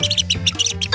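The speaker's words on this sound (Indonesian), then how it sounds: "Seekor burung." Bird chirping in a children's animal-guessing cartoon, a rapid run of bright, high twittering calls in quick repeated bursts, close and fairly loud.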